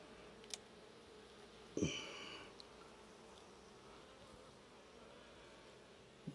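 Honeybees stirring during a hive inspection of a healthy, robust colony, a faint steady buzz with a brief louder rush of wings near the two-second mark, then a low continuous hum with no talking.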